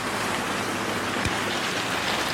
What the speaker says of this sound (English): I don't know if you can hear how much it's raining.